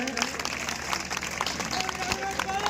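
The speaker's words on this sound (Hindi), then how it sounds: "सभी तालियां बजाएं" A crowd at a village gathering in Begampur claps for a man being honoured, moderate, ragged applause with scattered sharper claps, mixed with murmuring voices and a faint tonal whine.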